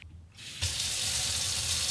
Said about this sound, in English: The tap's going in here, and the water will come out of here